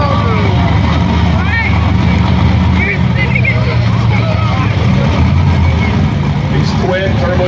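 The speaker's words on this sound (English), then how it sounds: "These twin turbocharged engines can be very finicky" Twin turbocharged tractor engines roar loud and steady at a county fair tractor pull, a dense continuous drone with no break.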